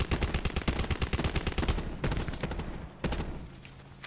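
Rapid bursts of gunfire in the video game Black Ops 4 Blackout, loud and close, with sniper shots among the repeated cracks and no pause.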